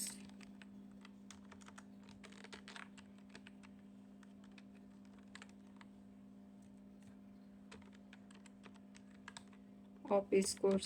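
Sparse keystrokes tapped on a computer keyboard while entering a list in an Excel spreadsheet, quiet and close over a steady hum, with a few louder clicks near the end.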